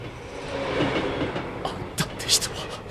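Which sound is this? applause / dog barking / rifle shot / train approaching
train approaching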